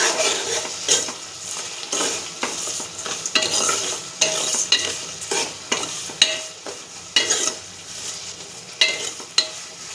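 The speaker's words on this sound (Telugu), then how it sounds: "ఇదంతా ఒకసారి బాగా కలుపుకుందాం." Curry being stirred in a pan with salt and onion pieces, a spoon scraping in repeated strokes over a steady sizzle, close and fairly loud, with occasional clinks of metal on the pan.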